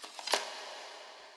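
A single foley hit drenched in reverb, resembling a door in a lo-fi production, lands as one short thud with a long washy tail that fades over about a second.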